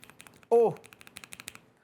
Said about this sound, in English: I love the sound, I love the feel. It's a good keyboard.